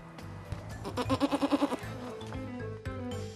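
A goat living at a Buddhist temple bleats in a quick wavering series of pulses, fairly close, over a busy background with some faint voices.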